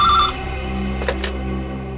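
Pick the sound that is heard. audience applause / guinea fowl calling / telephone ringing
telephone ringing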